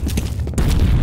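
A grenade explosion in the multiplayer shooter F.E.A.R. Combat, delivered as a short, loud, booming blast with heavy low rumble and a sharp secondary burst.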